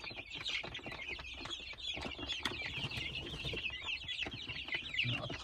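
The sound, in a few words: Kuchinsky breed chicks clucking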